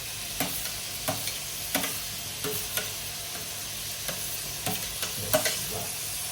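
Chopped onion frying in melted butter for pav bhaji, a constant soft sizzle punctuated by regular scraping strokes of a spatula against the pan, roughly one every half second to second, close up and with no voices.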